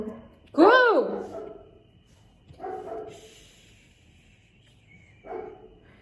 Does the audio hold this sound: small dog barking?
yes